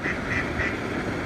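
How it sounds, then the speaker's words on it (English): Mother duck with a brood of ducklings at a park pond, steady repeated quacks at moderate distance over soft outdoor background noise, no voices. "I thought we'd had all new baby ducks"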